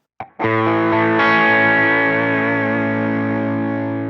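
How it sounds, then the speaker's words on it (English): A single electric guitar chord overdriven by a Line 6 Helix Diana drive is struck and left to sustain, gritty and loud, slowly fading over several seconds. "And then I have an overdriven sound."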